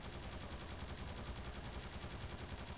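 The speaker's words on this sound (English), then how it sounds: "That SMG has so many bullets." A submachine gun fires in the video game Trails Through Daybreak: an unbroken, rapid stream of shots with an even, rattling pulse that holds at the same level throughout, with no voices.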